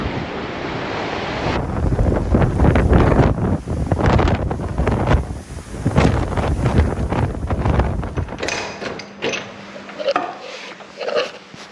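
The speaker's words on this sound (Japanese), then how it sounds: "こっちも波がないとは言えないですね" Ocean waves wash onto the shore in repeated surges, mixed with gusty wind buffeting the microphone, calming toward the end.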